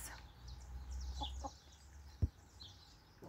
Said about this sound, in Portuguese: As galinhas do sítio,